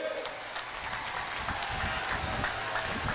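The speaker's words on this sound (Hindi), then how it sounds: "जरा जोर से ताली बजाओ दोनों के लिए" A crowd at an Amit Shah political rally in Goalpara, Assam, claps steadily, giving a dense, continuous wash of applause throughout, with a voice faintly underneath.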